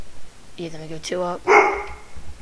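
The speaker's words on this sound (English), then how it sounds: "You might hear my dog in the background." A dog barks in the background a few times, the short barks mixed in with a nearby person talking.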